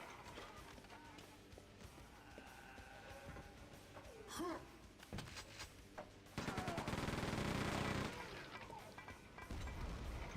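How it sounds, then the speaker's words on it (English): Chain gun in Quake II: The Reckoning, a sustained loud burst of rapid automatic fire in the latter half, preceded by quieter game sounds and effects. "Let's use the chain gun a little bit."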